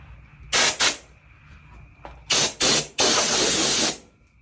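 Short blasts of cold air hiss onto freshly painted aircraft fabric on a Kitfox repair, two quick bursts, then two more, then a longer sustained rush, each loud and close.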